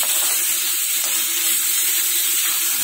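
Ginger garlic paste frying with onions and turmeric in a pan gives a steady, close, even sizzle and hiss that runs unbroken throughout, with no talking.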